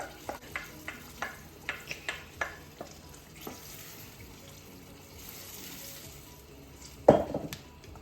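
Penne alla vodka sauce simmering gently in a pan, with a rhythmic series of spoon scrapes and stirs at first, a soft bubbling, then a sharper clatter near the end; no talking.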